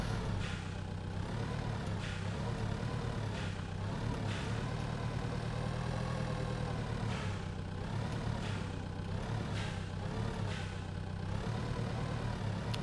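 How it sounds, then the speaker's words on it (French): Old tractor engine in the farming video game Pure Farming 2018, a steady low mechanical drone with faint revving swells, running continuously and fairly quietly throughout. "Hey, c'est un vieux tracteur."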